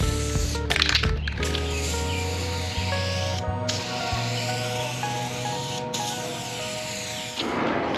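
Spray gun laying coats of paint onto a car hood, a steady close hiss running almost the whole time, broken by a few brief clicks and handling noises.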